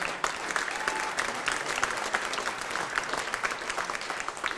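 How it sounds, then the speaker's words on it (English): Sustained audience applause in a concert hall at a middle school jazz event, a dense steady wash of many hands clapping with no gaps, moderately loud and even throughout. "Give them a round of applause, too, please."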